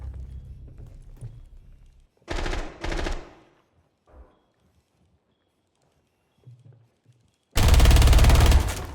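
Loud bursts of automatic gunfire in a competitive shooter match: two short volleys early, then a sustained, close, heavy burst at the end, separated by quiet stretches with faint footsteps and movement.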